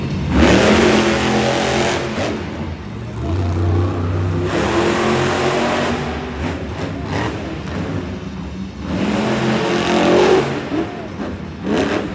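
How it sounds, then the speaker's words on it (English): Monster truck engines rev hard at the start line of a Monster Jam race in Las Vegas, loud roaring surges that rise, dip and build again, heard close in a large arena. "engines are now running up for David Oldberg and Velociraptor"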